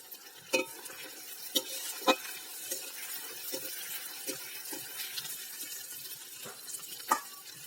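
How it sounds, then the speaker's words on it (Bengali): Chopped onion and four slit green chillies frying in oil left from frying fish, a steady crackling sizzle punctuated by repeated spatula knocks and scrapes against the pan, close by with no speech. "এখন মাছ ভাজা তেলের মধ্যে দিয়ে দিচ্ছি একটা বড় সাইজের পেঁয়াজ কুচি আর চারটে কাঁচা লঙ্কা চেরা"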